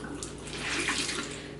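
Hand-dyed cross stitch fabric being rinsed under running water in a sink, a steady close splashing and gushing stream with a slight swell in the middle.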